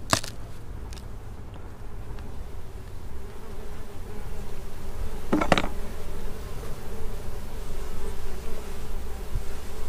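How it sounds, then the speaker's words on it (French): Honeybees hum steadily around an opened hive in a city, a continuous low buzz close by, with a few brief clicks and a sharp clatter from the beekeeper's handling partway through. "c'est des nouvelles abeilles, peut-être elles ne me reconnaissent pas"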